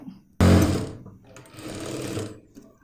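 Sewing machine stitching denim from old jeans into a ladies' bag: a sudden loud whirring run of stitching, a short pause, then a second longer steady run close up.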